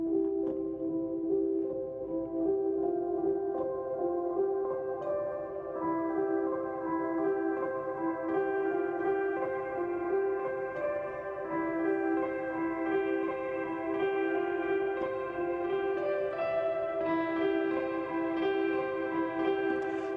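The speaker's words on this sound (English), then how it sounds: "we can slowly sweep that filter up, and it creates a pretty neat effect" Filter slowly sweeping upward over a steady electronic keyboard pattern, the harmonic tones gradually brightening as the sweep opens over about twenty seconds, played alone at a steady level.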